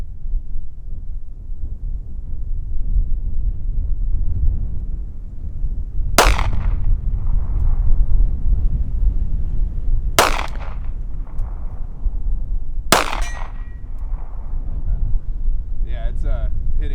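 Three sharp pistol shots from Freedom Munitions X-DEF .380 ACP self-defense rounds, fired several seconds apart at a target 50 yards away, cracking over steady outdoor wind rumble.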